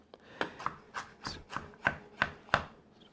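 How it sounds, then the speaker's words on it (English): Knife mincing five garlic cloves and two knobs of ginger on a cutting board, about nine distinct close thuds in an even, unhurried rhythm, quiet room and no talking. "Running my knife over them until I've almost paste."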